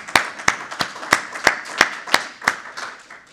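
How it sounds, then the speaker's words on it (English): Clapping at an energy outlook panel event, about nine distinct, evenly spaced claps in a steady rhythm, fairly close and fading slightly toward the end. "So let's give Billy a round of applause."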